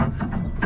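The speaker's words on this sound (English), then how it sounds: "Now take the top bolt off, that should drop out." A hand ratchet clicks in a quick run while undoing the top bolt on a Mazda RX8's suspension arm, heard close and alone.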